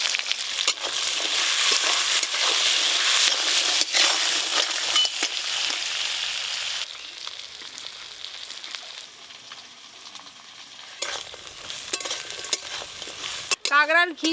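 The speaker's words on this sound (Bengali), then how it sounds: "কাঁকড়ার ঘি যত ভাজা হচ্ছে, কাঁকড়ার মধ্যে এই দেখুন ফেনা ফেনা হয়ে যাচ্ছে।" Crab fat fries in a pan with salt and turmeric, giving a close, continuous sizzle with stirring and scraping. The sizzle eases midway, then grows louder again before a final sharp clatter.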